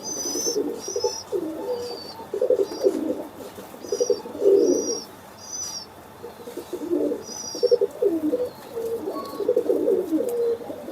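Pet pigeons coo repeatedly in soft, throaty phrases close by, with occasional faint chirps from other birds and a low background hum.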